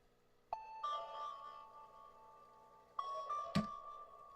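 A small bell tone in a music production rings out twice, each strike a clear sustained ping with a short decay under tape delay, the second followed by a brief thump.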